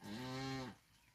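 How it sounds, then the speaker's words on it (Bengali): A single loud, drawn-out cow moo close by in a village farmyard, lasting under a second and fading into quiet ambience. "এখানে গরু রয়েছে"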